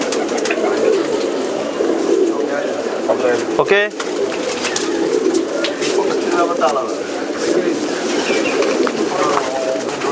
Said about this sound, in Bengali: আর এই একটা পায়রা দেখুন